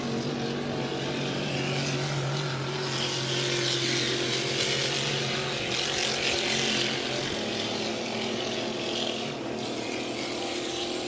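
Racing hydroplane boat engine at a Valleyfield heat, a sustained loud buzzing roar with a bright, rough upper edge, steady throughout and unbroken by speech.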